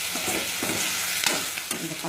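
Onion, tomato and mushroom-curry ingredients sautéed together in a pan on medium flame, a loud continuous close sizzle with brisk scraping stirs throughout, no talk.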